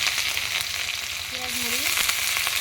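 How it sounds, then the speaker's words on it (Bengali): Onions and green chilies fry in hot mustard oil, giving a steady, close broadband sizzle that stays loud and even throughout, with a brief faint tonal squeak partway through and no talking. "আর এই যে পেঁয়াজ মরিচ এগুলো দিয়ে ভাজি করব"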